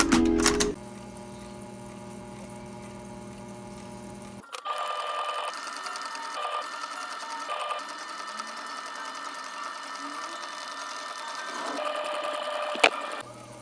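A sewing machine stitches a tote bag made from old pants, a steady whirring run with brief pauses and a sharp click near the end, close and continuous.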